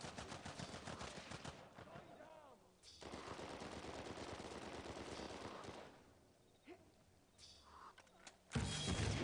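Teammates fire on the player during an Uncharted 4 multiplayer match, with rapid automatic gunfire in dense bursts broken by short pauses and a sharp, loud crack near the end, heard close.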